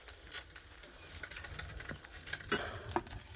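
Fish fries in a pan in a home kitchen, a steady low sizzle with occasional scraping and stirring clatter of a utensil close by.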